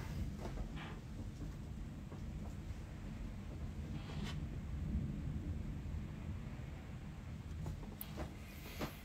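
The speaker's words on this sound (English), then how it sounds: "It's our first thunderstorm of the year." Low, steady rumbling of a first-of-the-year Minnesota thunderstorm fills the background, faint and continuous, with a few soft knocks and clicks nearby.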